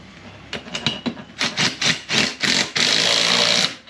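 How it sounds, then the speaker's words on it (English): Ratcheting and scraping as a 3/4 socket tightens a bead buster clamped onto a tire in a garage, in several short bursts that build into a steady, louder grinding stretch near the end. "Take a 3/4 socket."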